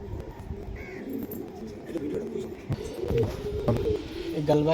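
Punjabi Galbai pigeons coo softly in close range, low throaty calls mixed with rustling and someone talking over them.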